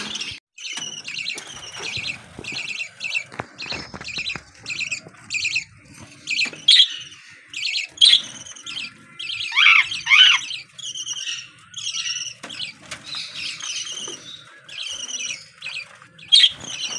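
Repeated shrill bird squawks and chirps, including a cockatiel, several birds calling close by in rapid, uneven bursts throughout, with occasional louder screeches.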